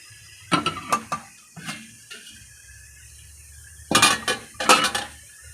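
A metal lid lifted off a steaming pot of sweet green gram kozhukattai, with scattered clinks and clatters of metal at first, a pause, then a louder burst of rattling near the end.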